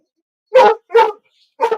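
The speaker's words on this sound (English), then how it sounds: "I'm sorry for the dogs barking." Three sharp dog barks ring out close by, each separated by a short pause of silence.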